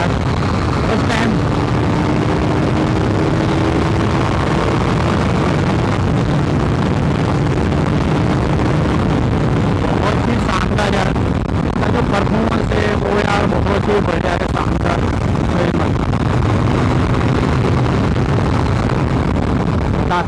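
A KTM RC 390 BS3 motorcycle rides at speed, its engine droning steadily under heavy wind rush throughout, loud and close, with a shift in engine pitch midway.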